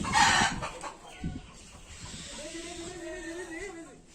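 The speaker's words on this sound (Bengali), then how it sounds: "চলুন সোনালী মুরগিটাও দেখে যাক" A golden (Sonali) chicken at a mini zoo clucks nearby, with a sharp burst of calls at the start and a drawn-out, wavering cluck toward the end over faint background noise.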